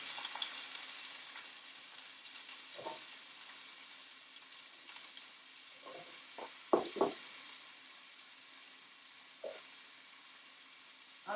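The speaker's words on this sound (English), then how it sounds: "So my pan is hot and I'm just going to place these in." Wet vegetables for a chicken stir fry sizzle softly in a hot pan, with a steady hiss broken by a few knocks and clatters of the pan and spoon.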